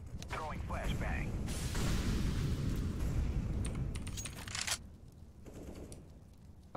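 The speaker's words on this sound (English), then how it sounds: "Fire in the hole! Throwing flashbang." A flashbang grenade goes off in Counter-Strike as a long, loud broadband roar and ringing wash that holds for several seconds, then drops away to quieter game noise.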